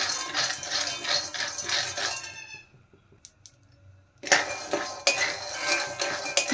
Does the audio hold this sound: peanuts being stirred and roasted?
yes